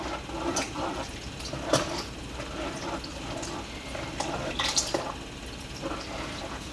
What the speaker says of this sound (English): So I'm just adding the milk